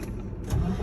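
A heavy truck's engine cranks and catches in the cab, a low rumbling roar rising over a steady hum, close and fairly loud.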